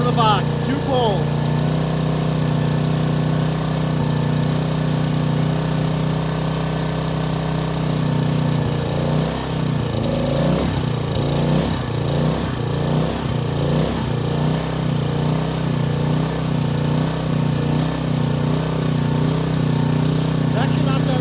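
A Sportsman 2000W gasoline portable generator runs close by with a steady, droning engine hum throughout, and a voice speaks over it partway through.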